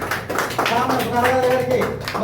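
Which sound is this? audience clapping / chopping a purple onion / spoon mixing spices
audience clapping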